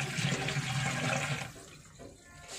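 Water from a kitchen tap rushes over freshly cut potatoes being rinsed, a close, steady splashing stream that tapers off and briefly swells again, with no voices.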